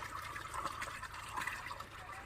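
Well water flows in steadily, a continuous close splashing and trickling stream pouring into a container, with no other sounds over it.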